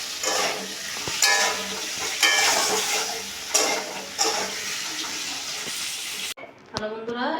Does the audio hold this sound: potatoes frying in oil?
yes